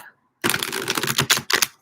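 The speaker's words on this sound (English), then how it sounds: "one more shuffle for this deck" A tarot card deck being shuffled: a burst of fast, crisp riffling followed by two shorter flutters, close and fairly loud, with no talking.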